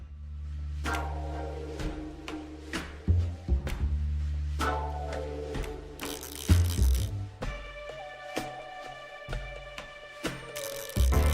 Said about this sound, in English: The sewing machine is working.